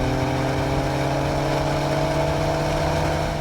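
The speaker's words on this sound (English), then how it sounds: "Close your eyes and you'd swear you're hearing 2 BMWs racing." Dodge Challenger Six-Pack and BMW M2 engines running together in a steady, sustained roar with a droning, tonal hum. The sound is loud and constant, with no pauses and no voices.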